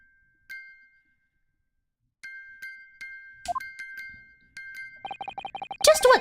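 A music box in The Great Ace Attorney Chronicles plays sparse, clear chiming notes with long gaps, then speeds into a quick run of repeated tinkling tones that ends in a brighter jangling burst.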